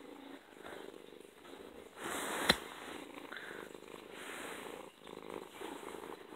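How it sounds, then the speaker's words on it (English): A house cat purrs close and continuously in a soft, rhythmic low rumble, with a short rustle and faint click midway and no talking. "Cat."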